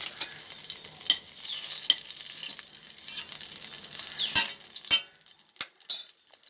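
Mustard seeds crackle in hot sesame oil, a close, busy sizzle broken by sharp pops and metal spoon clinks against the pan, thinning out toward the end.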